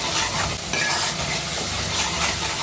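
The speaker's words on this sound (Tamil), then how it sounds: "இதையும் சேர்த்து நல்லா வதக்கிட்டுருக்கலாம்" Red chili powder masala sautéing in oil for a rock fish curry, a loud dense sizzle broken by a brief stir, close up with no voices.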